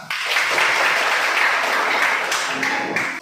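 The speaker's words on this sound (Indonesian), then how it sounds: "Ya, tepuk tangan." Classroom students clapping together during a school lesson, a brisk continuous round of applause that starts abruptly, stays loud and close, then tapers off near the end.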